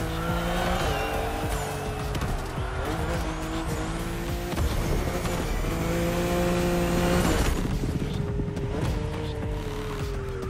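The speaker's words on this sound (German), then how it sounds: "Wieder im BMW M4 Liberty Walk Edition." A BMW M4 Liberty Walk Edition race car in The Crew Motorfest on PS5, racing around Oahu, revs hard through repeated gear shifts with rising engine pitch and bursts of tire squeal.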